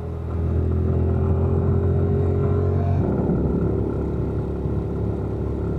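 An engine running hot, a loud steady rumble and drone close by with a slight shift in pitch partway through, continuous for several seconds with no talking.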